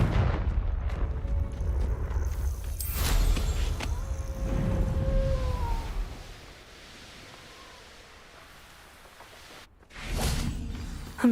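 A Confringo blasting curse erupts in Hogwarts Legacy: several loud, booming blasts with whooshing tails, a quieter lull between them, and one final burst near the end.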